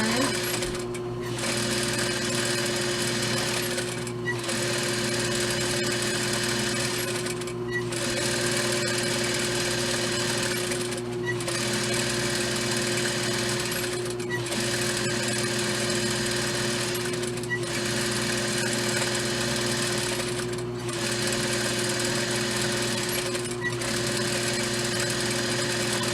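Sewing machine stitching a dress hem in a long, steady mechanical whir, with brief pauses every few seconds as the fabric is repositioned, close and continuous with no talking.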